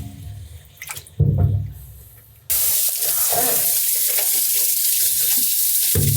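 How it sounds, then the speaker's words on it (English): Kitchen sink tap turned on at full flow to rinse fruit, a loud steady gush of running water after some earlier clatter and splashing, continuing without talk. "I'm going to let the water out of the sink, and I'm going to give these all a quick rinse"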